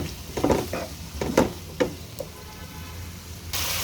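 Potatoes fry in a pan, with a few soft sizzling bursts and scraping stirs in the first half, then a quieter hiss and a brighter surge of sizzle near the end.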